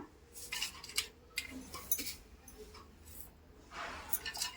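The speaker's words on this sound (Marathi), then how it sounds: "चांदीच्या वस्तू तुम्ही त्यामध्ये घाला" Small silver items, including silver cloves, are dropped into a vessel for a Lakshmi offering, giving a string of light metallic clinks and chinks spread across a few seconds, fairly close and quiet, with no talk.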